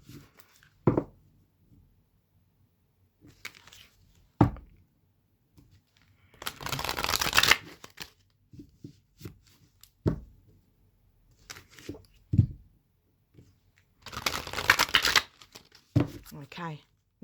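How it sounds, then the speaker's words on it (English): Elemental oracle cards are shuffled in two bursts of riffling, papery rustle several seconds long, separated by sharp taps and knocks of the deck and stretches of near silence. "bear with me whilst I shuffle"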